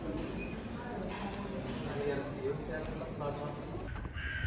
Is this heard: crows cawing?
yes